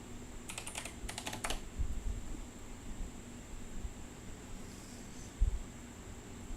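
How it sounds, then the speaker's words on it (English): Quick bursts of clicking keystrokes on a computer keyboard, close and fairly faint, followed by a near-silent stretch with steady background hiss and an occasional soft thump. "maybe if I typed in flexible resin"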